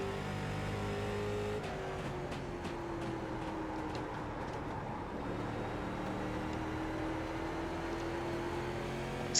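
A Late Model race car engine in the iRacing game holds a steady, loud drone throughout, its pitch sagging slightly after a bad corner exit and then climbing again, with no talk over it.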